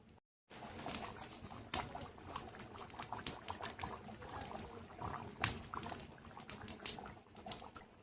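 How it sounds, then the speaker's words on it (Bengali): Water is poured into a pot of jackfruit curry cooking after the jackfruit has been fried in spices, making a close, busy bubbling and splashing patter that starts abruptly and carries on unevenly, with no voices. "কাঁঠাল কষানো হয়ে গেছে, এই যে জল দিয়ে দিচ্ছি"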